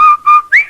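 A whistle from a Rinso soap radio advertisement: three clear, close whistled notes, two held level and steady, then a final note that slides upward, standing alone with no talk.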